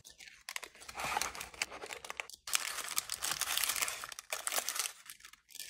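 Blind bag packaging for Rainbow High handbags being torn and unwrapped close up, loud crinkling and ripping of paper and plastic in bursts with a brief pause, no talking.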